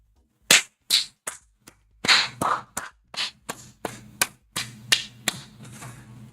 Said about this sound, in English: Sorry, sarcastic clapping.